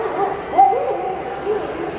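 A stage performer playing a Royal Northwest Mounted Police sergeant's dog imitates barking with his voice at an outdoor reader's theater show, brief yips over crowd ambience.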